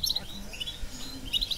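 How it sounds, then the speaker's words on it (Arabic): A Constantine goldfinch sings in short, high chirps and twittering bursts, moderately close, with a faint background hum between phrases. "هذا هو طائر الحسون القسنطيني الأصيل"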